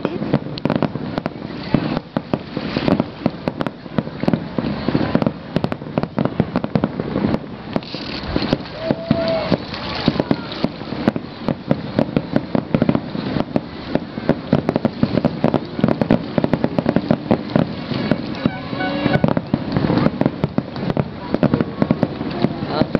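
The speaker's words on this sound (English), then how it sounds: "you should light up a bottle rocket and then start like a rocket that goes into the air" Bottle rockets and fireworks launch and burst outdoors in a dense run of sharp crackling pops and whooshes, heard against heavy wind noise on the microphone with faint voices.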